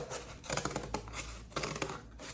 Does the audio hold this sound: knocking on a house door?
no